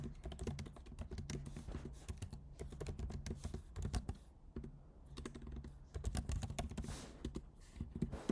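Code is typed on a computer keyboard in a fast, continuous stream of close, quiet key clicks with brief pauses, and nobody speaks.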